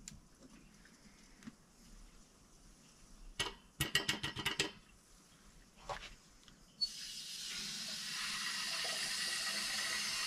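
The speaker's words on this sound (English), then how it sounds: "with just a little bit of water going through, I just want it to flow through here." Water begins rushing steadily through a pipe on a Bradford White 50-gallon power-vented natural gas water heater after a few clicks and knocks, settling into a continuous hiss that fills the second half.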